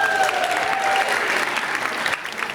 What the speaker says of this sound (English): I said no clapping at the beginning.